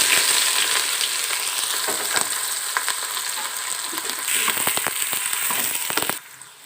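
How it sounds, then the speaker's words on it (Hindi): Onions and whole spices fry in a hot pan with a loud, steady sizzle close up, broken by sharp crackles and pops and occasional stirring scrapes before the sound drops off at the end. "अब हम ये मसाले जात को डाल के भुनाई कर लेते हैं। अब हम इसमें प्याज को ऐड कर लेंगे"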